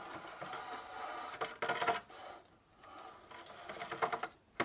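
A motorcycle chain on a Multicycle Tour 600 rubs against the freshly refitted top half of its chain case, a soft uneven scraping and rasping with brief louder bursts, faint and close.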